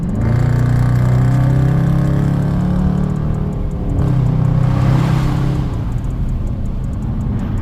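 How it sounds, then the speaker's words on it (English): A Chrysler 300 speeds up alongside at night, a loud engine drone rising and swelling as it passes close, with a brief surge of road rush before settling back to steady cruising noise. "Speeding up on the side of it. Look at that. That's a 300."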